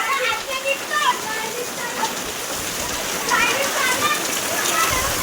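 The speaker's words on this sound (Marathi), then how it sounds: "मस्त पाऊस आहे ना" Steady rain pours over a village during a heavy monsoon storm in Mahadevkhar, a dense hiss filling the whole stretch, with people talking and calling out through it.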